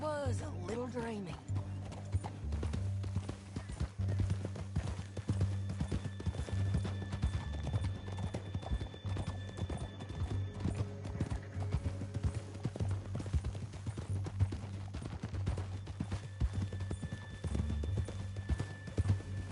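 Horse hooves clip-clop in a steady rhythm in Red Dead Redemption 2, continuous and mid-level under game music, with characters talking and a horse whinnying briefly near the start.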